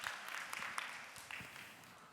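Soft, distant applause from a conference audience at a community-building forum, a steady wash of many hands clapping with scattered sharper claps, fading slightly toward the end.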